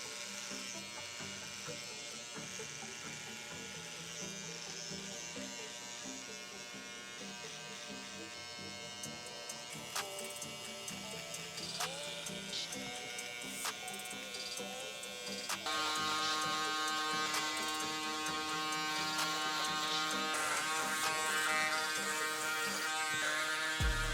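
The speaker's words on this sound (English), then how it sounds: "I'm gonna go ahead and just shave the rest of his face." An electric razor shaves a man's face during a haircut, giving a steady close buzz that runs throughout and grows louder and brighter in the second half.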